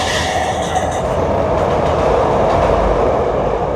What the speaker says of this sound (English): When you're in the city, you have to hear the train.